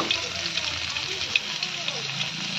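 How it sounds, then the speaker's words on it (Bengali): Fish frying in oil, a loud, dense, steady hiss of sizzling held close throughout, with a faint voice in the background. "তো বন্ধুরা, আমার মাছ ভাজা হয়ে গেছে"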